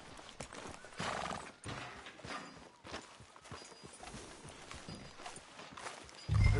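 Hooves clop steadily at a walking pace in Red Dead Redemption 2, fairly faint, with a horse whinnying partway through and a low thump at the end.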